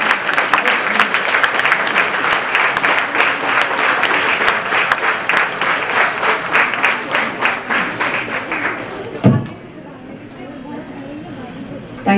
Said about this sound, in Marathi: जोरदार टाळ्या होऊ दे